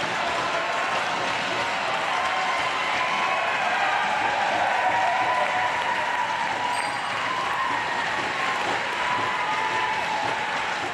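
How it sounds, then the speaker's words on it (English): A crowd of Elora Hawks fans rises in sustained, massive applause at a Junior B lacrosse playoff game against the Orangeville Northmen, a dense steady roar of clapping and cheering that holds for the whole stretch. "Andrew Wilson re-enters the game to a massive applause as the Elora faithful get to their feet"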